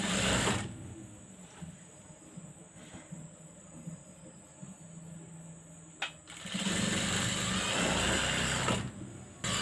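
A tailor's sewing machine stitches doubled, folded cloth for a baby frock's waist belt, running in one long whirring burst, a brief pause, then a second loud sustained run of stitching.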